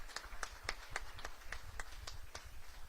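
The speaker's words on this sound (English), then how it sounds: "One last round of applause for all of our award winners" Applause for award winners at a town hall meeting, a sparse, faint patter of claps from a small audience in a steady rhythm.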